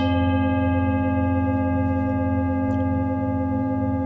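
A steady ringing bell tone with sustained harmonics, loud and continuous, with a brief sharp accent near the end.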